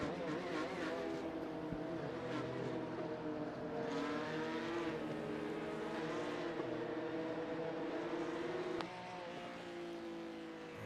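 Porsche Cup race cars run on a damp Daytona track, their engines a continuous wailing drone that rises and falls as they accelerate and shift, with the pitch dropping suddenly near the end, steady and fairly distant, without talking.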